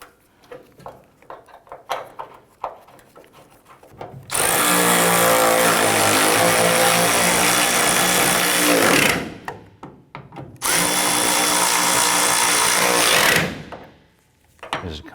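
A bolt being run into a new tailgate hinge on a 1994-2004 Chevy S10 pickup with a powered driver. Two long, loud whirring bursts are separated by a short pause, with quieter handling clatter before and after.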